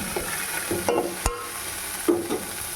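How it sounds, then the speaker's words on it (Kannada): Tomato, onion and green chili fry in a pan for sabudana upma, giving a soft steady sizzle with a few scraping stirs and spoon knocks, with no talk. "ನೋಡ್ಬೋದು ನೀವು ವಿಡಿಯೋದಲ್ಲಿ ಚೆನ್ನಾಗಿ ಫ್ರೈ ಆಗಿದ್ದಾವೆ"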